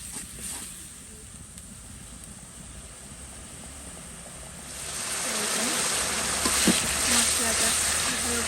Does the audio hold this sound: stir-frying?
yes